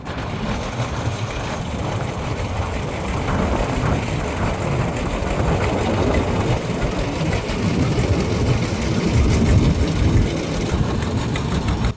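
Trawler boat engine running on the Padma river, a steady loud low drone throughout with no one talking.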